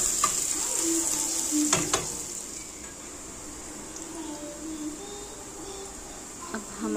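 Onions frying in a pan with chilli and garlic give a steady, moderately loud hiss. Brief scrapes and clinks of stirring come through near the start, and a voice speaks faintly at times.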